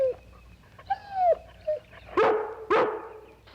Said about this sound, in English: If you want to stay and bark at that squirrel all day, it's all right with me.